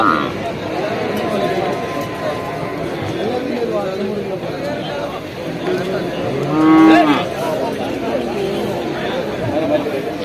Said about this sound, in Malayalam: കാളകളാണ് നിൽക്കുന്നത്